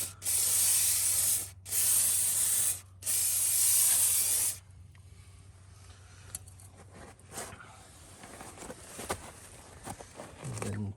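Degreaser is sprayed in three long, loud hissing bursts onto the brake pad and roller of a Toyota Land Cruiser / Lexus LX470, after which quieter clicks, clanks and faint voices carry on.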